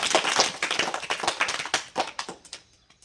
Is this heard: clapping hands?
yes